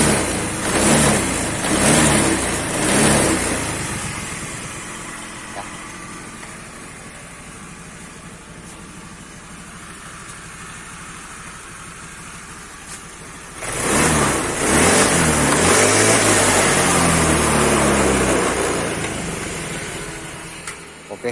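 Honda Vario Techno scooter engine starting and running close by, with bursts of revving at the start, a steady idle through the middle and another loud rev before settling down.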